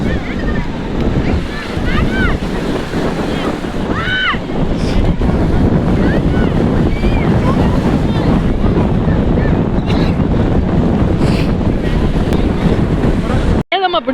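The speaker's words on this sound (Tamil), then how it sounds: "செம்ம அலை," Surf at Manapad beach: a steady, loud roar of breaking sea waves mixed with heavy wind buffeting the microphone fills the whole stretch, with faint voices now and then underneath.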